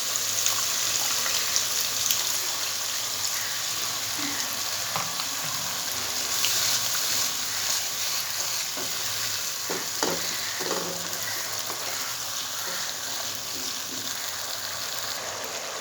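A little water goes into a pan of cooked-down spice masala for a smooth hotel-style egg curry. It brings a dense, continuous sizzle and bubbling hiss with occasional soft utensil knocks, close and steady, and there is no talking.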